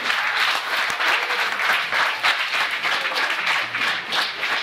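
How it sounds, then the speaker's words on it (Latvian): An audience at an evening event applauds steadily, dense continuous clapping at close range that holds an even level for several seconds with no voices over it. "Aplausus Jevgenijam!"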